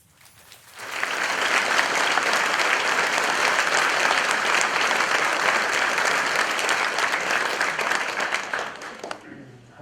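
Dense, sustained applause from an audience at an interview event with artist Ai Weiwei, swelling in after a second of quiet, holding steady and loud, then tapering at the end.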